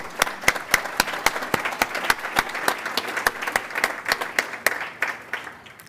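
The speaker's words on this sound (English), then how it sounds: "Let's please give them a round of applause" Gala dinner audience applause with fairly sparse clapping, individual sharp hand claps standing out in an irregular rhythm over a softer bed of clapping throughout.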